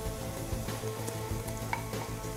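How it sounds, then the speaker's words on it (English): Eggplant and tomato sizzling in a pan for Turkish rice with eggplant, a dense continuous frying crackle with occasional stirring scrapes, close and steady throughout. "See that sizzling?"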